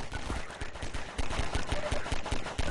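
Rapid gunfire in the video game Half-Life 2, a close, loud stream of sharp repeated shots in quick bursts, like an automatic weapon firing almost continuously.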